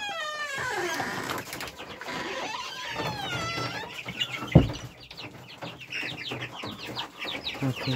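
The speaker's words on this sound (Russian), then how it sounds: "Так, здесь у меня утятки." Muscovy ducklings peep in a dense, continuous chorus of high, overlapping calls close by, with one brief thump partway through.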